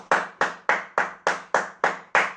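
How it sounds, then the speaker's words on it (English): Eight sharp hand claps in a steady, even rhythm, close and loud with no talking, as a group counts along in a maths lesson. "Well done if you did 10 claps."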